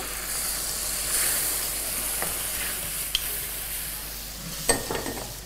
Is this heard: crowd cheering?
no